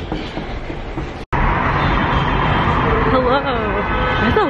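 A train runs on rails at a station, its wheels clattering loudly and steadily close by, with a brief squeal near the end and a person talking over the rumble.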